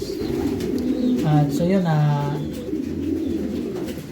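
Racing pigeons coo in a loft in Madrid, Spain, while being prepared for a 250-kilometre race. One bird's rolling, throaty coo rises clearly near the middle, with someone talking briefly over the ambient noise.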